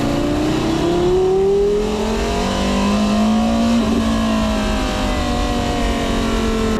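A Porsche Carrera GT engine pulls hard in second gear, its steady rising roar filling the cabin continuously for several seconds.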